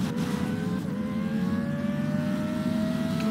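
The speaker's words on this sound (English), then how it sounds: "Listen to those beautiful turbos." Car engines in the video game Vehicle Simulator drone steadily with a turbo whine slowly climbing in pitch, a continuous mid-level racing hum with no talk.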